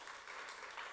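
A church congregation gives a short burst of applause, a faint, diffuse wash of many hands clapping together without any talk.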